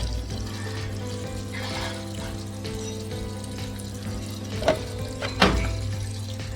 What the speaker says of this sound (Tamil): ஸோ இப்படி தான் நமக்கு வாட்டர் சோப்பு எல்லாம் சேர்ந்து நம்ம ட்ரெஸ்ஸுக்கு போவோம்